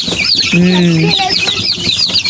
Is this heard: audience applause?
no